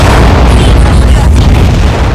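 A very loud explosion in the video game Aquanox: a sustained, dense booming roar that fills the whole clip with no pause.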